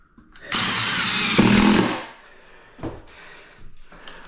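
A power drill whirs loudly for about a second and a half as a screw is driven through into a stud, then drops away to quieter handling sounds and a short second burst.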